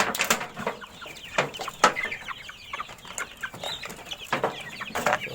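Young chicks about to be dewormed, clucking and peeping in short scattered calls and sharp chirps close by, irregular bursts over a quiet background.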